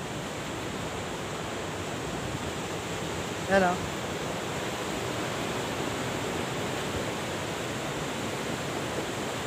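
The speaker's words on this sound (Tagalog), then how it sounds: "Baha ang ilog, baka tayo madala." Floodwater in a swollen river rushes in a steady, broadband roar that fills the whole span, with a brief voice heard faintly over it.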